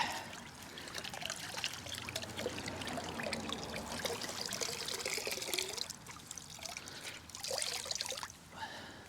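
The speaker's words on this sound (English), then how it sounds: "wring out your drying towel that you've had soaking in your rinse bucket" Water trickles and drips steadily from a wrung-out microfiber drying towel into a rinse bucket during an exterior wash of a Chevy Colorado pickup, a continuous close pour with a few brief louder splashes.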